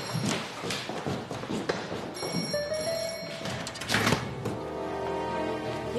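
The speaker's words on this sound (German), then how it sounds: "da klingelt dauernd das Telefon, aber ich gehe nicht dran." A telephone in a convent office rings with repeated bell tones, joined by thumps and footstep-like knocks. Nobody speaks.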